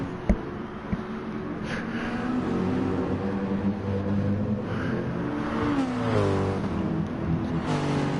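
A BMW V8 race car in a Group 3 Super Championship round at Mount Panorama revs and climbs steadily in pitch, a loud sustained engine roar building over several seconds.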